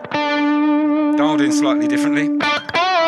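Electric guitar through a Boss GT-1000 Plexi amp model with plate reverb, playing sustained distorted chords and single notes up close, with a voice talking briefly over it.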